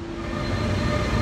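A train rumbles past with a heavy, continuous low roar and steady hum, loud and close, with no voices.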